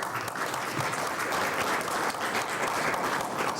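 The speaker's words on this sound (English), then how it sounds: "Big hand of applause again for Allan" Steady audience applause in a conference hall at an annual energy-transition conference, a dense, even patter of many hands clapping with no talk over it.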